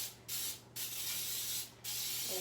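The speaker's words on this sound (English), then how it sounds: "I'm taking some pan baking spray, and what I'm going to do is spray the inside" Baking spray hisses into a bundt pan in three close, loud bursts, each a steady spray lasting about half a second to a second, separated by short pauses.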